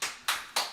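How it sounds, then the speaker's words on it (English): A lone woman claps three times in a slow, even rhythm, each sharp smack close and clear against a quiet room. "That is my lovely wife clapping"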